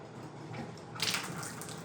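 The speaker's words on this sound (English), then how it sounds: "And then we're gonna turn the shower one on too" Shower and bathtub taps in a cabin left running to drain the pipes, a faint steady hiss of flowing water that brightens partway through as more water splashes.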